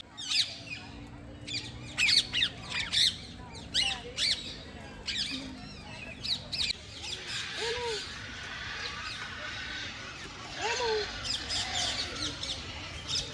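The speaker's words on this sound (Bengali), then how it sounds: "এই হচ্ছে এমু পাখি" Emu calls at a picnic trip site: a series of squawks and chirps that come in bursts, with people talking faintly in the background.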